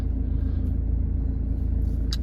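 A Mercedes-Benz C220 CDI AMG Sport diesel engine running right after start-up, giving a steady, loud, close low rumble for about two seconds with no talking over it.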